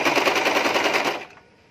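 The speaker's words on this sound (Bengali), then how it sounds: "এখন আমি মিলিয়ে মিলিয়ে সেলাইটা করে নিচ্ছি।" A sewing machine stitches a princess cut nighty with fast, even mechanical clatter at close range, running for about a second before stopping abruptly.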